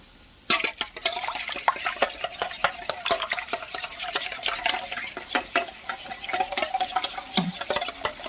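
A whisk beating a French toast egg mixture with cinnamon in a bowl, rapid rhythmic clicking taps against the sides, close and continuous with faint kitchen background, no talking.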